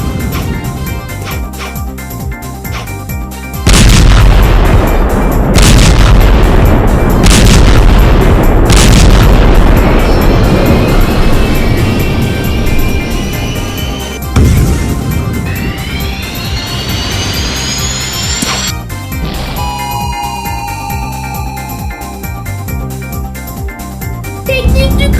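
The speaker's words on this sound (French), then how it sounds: "Technique du crash d'avion de Joseph Joestar!" Cartoon plane crash from a Sonic parody: a roaring jet engine rumble broken by several loud booming explosions, followed by rising and falling whining engine tones, dense and loud throughout.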